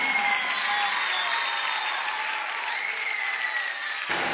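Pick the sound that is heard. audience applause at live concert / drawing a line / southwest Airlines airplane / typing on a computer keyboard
audience applause at live concert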